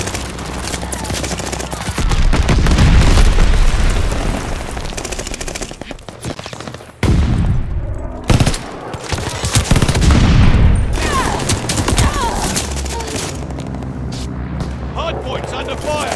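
Heavy automatic gunfire and booming explosions in Call of Duty Vanguard's Hardpoint multiplayer mode on the Decoy map, loud sustained bursts with a few abrupt breaks, and voice callouts over the battle.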